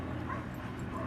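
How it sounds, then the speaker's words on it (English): Several dogs bark and yip in a busy, noisy room, overlapping in a dense, continuous clamour with some whimpering mixed in. "Emmett and Chewy barking."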